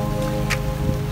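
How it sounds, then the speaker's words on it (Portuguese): Light rain patters steadily on a surface during a hurricane season at a dry-docked sailboat, a soft continuous hiss with a low background hum and one brief brighter splash midway. "Dia de chuvinha."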